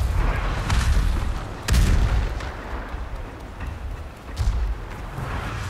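Heavy booming blasts of cannon fire thud repeatedly over a rumbling battle din in the video game Ghost of Tsushima, with several deep impacts spaced a couple of seconds apart.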